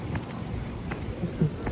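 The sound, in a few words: heavy rain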